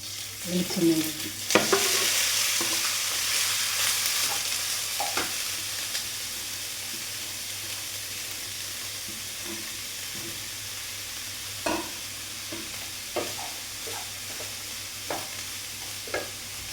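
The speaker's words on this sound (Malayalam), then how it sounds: "ഒരു നാല് സവോള ചോപ്പറിലിട്ട് ചോപ്പ് ചെയ്തതാണ് അത് ഞാൻ ഇതിനകത്തേക്ക് ഒഴിച്ച് ഇട്ട് കൊടുക്കാണ്" Four chopped onions fry in a pan for an egg and black pepper curry, with a steady sizzle and scattered spoon scrapes and stirring knocks, louder at first, then softer.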